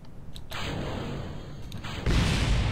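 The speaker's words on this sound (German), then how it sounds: "Wow, nice Explosions" Rocket explosions in Kerbal Space Program go off over a constant roaring engine hiss: one sudden burst, then a second, heavier blast that leaves a louder, thicker roar.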